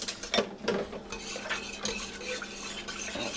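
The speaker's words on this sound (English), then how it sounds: "we need to whisk that real good" Whisk scraping and clinking against a pot while cornstarch slurry is stirred into gravy, quick, irregular metallic taps and swishes, fairly close but soft.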